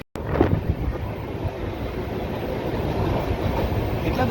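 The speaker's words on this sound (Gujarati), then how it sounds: "ચલો ટ્રેન ઉપડવાની તૈયારી છે." A train pulls out from Rajkot with a loud, continuous rumble and rattle heard close up from on board. The noise is steady and carries on throughout, with no voices.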